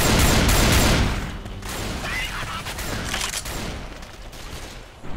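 Combat shotgun gunfire, the Spaz 12 in Left 4 Dead 2, with a loud burst of shots at the start that fades into a dense, continuous clatter of further fire and game noise.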